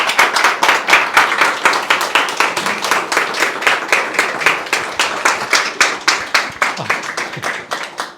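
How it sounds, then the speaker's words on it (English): An audience claps for a speaker at a commemoration event, a dense round of hand clapping that is close and loud and holds steady for several seconds before thinning out, with no speech over it. "So please give her a round of applause."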